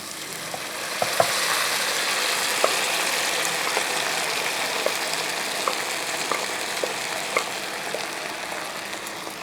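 Cooked vegetables for a curry fry in a pan with a continuous close sizzle, broken by sparse light clicks and scrapes of a spoon as they are stirred. No voices are heard.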